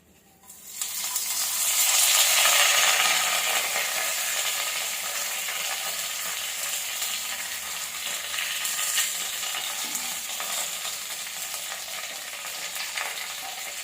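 Erukku leaves sautéing in sesame oil sizzle loudly from the moment they hit the pan, a steady close frying hiss that softens a little and then holds, with no talking.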